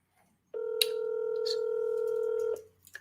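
A single steady telephone tone rings out loud and close for about two seconds while a call goes through to a cell phone, then cuts off into near silence.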